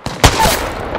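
The Mastiff shotgun firing in the video game Apex Legends: a single loud, close blast with a heavy boom that rolls into a sustained rumble and fades slowly.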